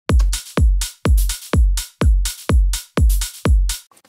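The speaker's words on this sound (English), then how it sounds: "We've got a second shaker, which sounds like this." A second shaker sample in a progressive house drum loop repeats about nine punchy, evenly timed hits, loud and close, with no other sounds.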